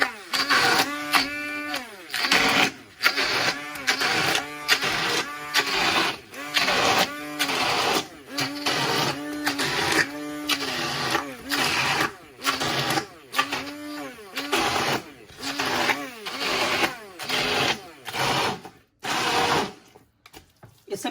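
Electric grinder blending cooked saag (mustard greens) in repeated short pulses, a loud whirring motor starting and stopping in a steady on-off rhythm up close.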